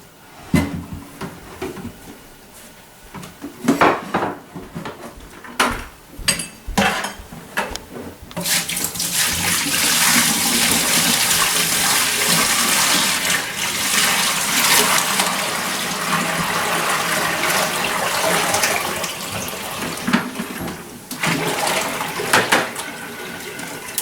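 Brine gushes steadily out of a container into a sink for several seconds, loud and close, after a few scattered clunks and handling noises.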